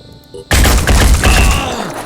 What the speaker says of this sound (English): And I shot my own teammate.